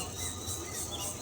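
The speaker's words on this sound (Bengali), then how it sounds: "পাখির কলকাকলি" Birds chirping softly across the Jahangirnagar University campus in Bangladesh, a steady, distant chorus of high twittering calls with no talking.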